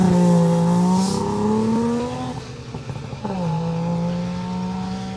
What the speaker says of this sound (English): Noisy rally cars